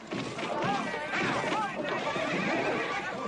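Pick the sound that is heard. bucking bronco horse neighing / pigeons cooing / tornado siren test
bucking bronco horse neighing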